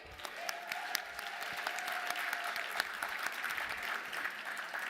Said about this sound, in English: Let's give another round of applause for Miss Crystal Emery.